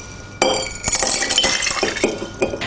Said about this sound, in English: Next, you'll need your serving glass to pour the mixture in.